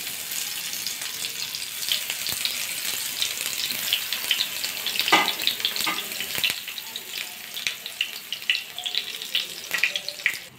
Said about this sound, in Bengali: সর্ষের তেল দিয়ে দেব, তেলটা গরম হয়ে গেছে, তেলটা চারিদিকে একটু লাগিয়ে নেব। এবার বেগুনের রিংগুলো দিয়ে দেব